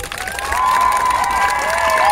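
A large outdoor crowd in Vitebsk cheers and applauds at a star-unveiling ceremony, loud dense clapping and shouts swelling after a quiet start, with a high whistling or feedback tone gliding over the noise.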